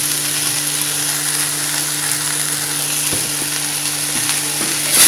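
Radish pieces sauté in a pan until well softened, giving a constant close sizzle over a low steady hum, with a few faint stirring clicks near the end.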